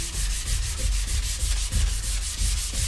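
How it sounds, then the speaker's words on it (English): Sandpaper of 320 grit rubbing evenly back and forth across a skateboard deck, a steady rhythmic scratchy swishing with regular strokes, close and continuous without speech. "basically what we're doing is evenly sanding it until the black is gone"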